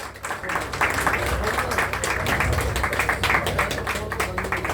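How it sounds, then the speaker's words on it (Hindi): An audience claps at a Hindi-language university event honouring a chief guest, uneven crowd applause with some individual claps standing out over a busy background of voices and room noise. "आपकी जोरदार तालियां।"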